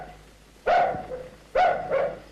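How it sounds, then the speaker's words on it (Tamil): A dog barks twice in a film scene, each sharp, loud bark followed by a shorter trailing yelp, spaced about a second apart with quiet background and no talk. "எங்க தம்பி நாய் தான் குலைக்குது"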